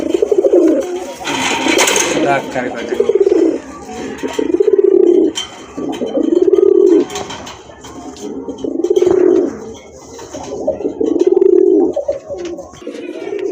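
A male pigeon with a pearl eye and bright orange plumage with feathered feet coos in repeated low, rolling phrases, a rhythmic series of close, fairly loud calls with brief gaps between them.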